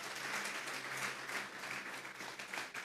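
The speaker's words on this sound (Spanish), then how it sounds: "Vamos a darle un fuerte aplauso pues al Señor." A congregation applauds at a Salvadoran church service, a faint, steady, distant wash of clapping that holds evenly for a few seconds.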